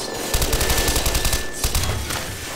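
Rapid automatic gunfire in Garry's Mod, a loud, dense stream of shots running almost nonstop for a couple of seconds with a brief gap partway through, close and with no talking over it.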